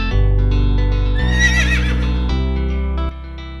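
A horse neighs loudly and close, a long quavering whinny rising and falling over about three seconds, heard alone in a children's alphabet song.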